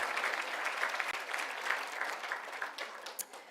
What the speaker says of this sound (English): So give yourself a massive, massive round of applause.